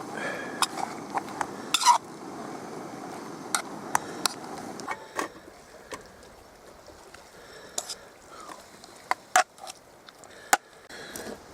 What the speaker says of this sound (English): Give it a bit of a stir around.